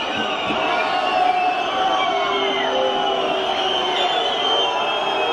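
Large Serbian stadium crowd roaring and cheering as Albania's players walk onto the pitch, a dense, steady wall of voices with whistles and shouts, loud and continuous throughout.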